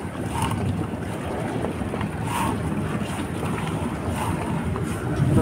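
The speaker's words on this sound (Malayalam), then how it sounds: "നമ്മളപ്പുറത്ത് ഇപ്പുറത്തായിട്ടൊക്കെ വള്ളങ്ങളൊക്കെ ഓടിപ്പോകുന്നുണ്ട്" Fishing boats out at sea on a ribbon fish and squid trip, heard as a steady engine and hull drone mixed with wind buffeting and splashing water, continuous and without voices.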